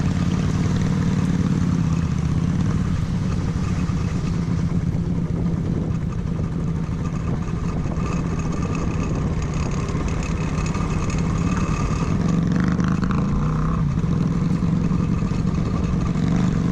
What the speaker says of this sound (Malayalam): വണ്ടിയുടെ എക്സോസ്റ്റ് സൗണ്ട് സൂപ്പറായിരുന്നു